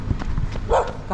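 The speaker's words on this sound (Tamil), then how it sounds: "இந்த நாய் கொலைக்கு வந்தப்போ" A dog barks a couple of short sharp times nearby during an early morning outdoor run, mixed with brief movement sounds and a faint voice.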